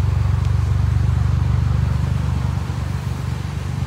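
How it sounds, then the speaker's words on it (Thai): A 2020 Honda City idles close by with a smooth, steady low hum and an even pulsing beat, loud and unbroken throughout. "นี่เสียงรอบเดินเบาครับนุ่ม"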